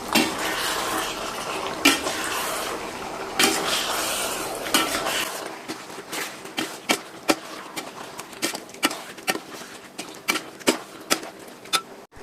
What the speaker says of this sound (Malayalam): ഇതുകൂടെ ഇട്ട് കൊടുത്തതിന് ശേഷം നന്നായിട്ടൊന്ന് ഇളക്കി കൊടുക്കാം.